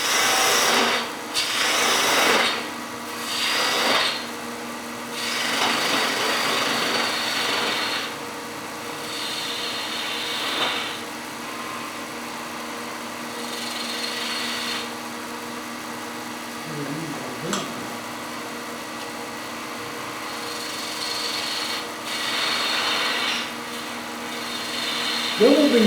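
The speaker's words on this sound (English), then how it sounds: "I'm going to switch to a half-inch single gouge." A wood lathe with a half-inch single gouge makes intermittent scraping and cutting bursts on spinning stock, moderately loud, separated by quieter stretches with a low steady hum of machinery in the background.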